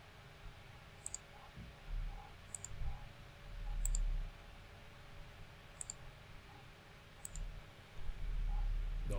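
Computer mouse clicks during 3D modelling software work, single sharp clicks spaced a second or two apart over a low background hum and faint desk rustles.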